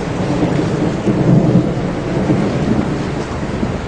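Thunder rolls low and heavy through steady loud rain, a continuous deep rumble swelling and easing over the downpour with no voices.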